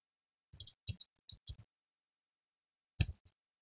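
Computer keyboard keys pressed by a baby: a few sparse, sharp clicks in two short clusters, close and crisp against silence, with an uneven, hesitant rhythm.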